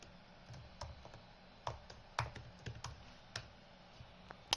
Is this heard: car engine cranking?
no